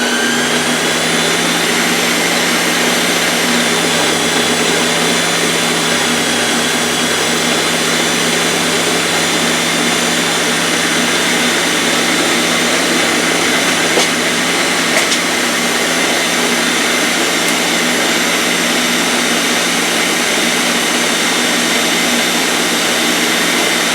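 An electric mixer beats sweet potato pie filling for a homemade pie, a loud, steady motor whine and hum that runs unbroken and close with no voices.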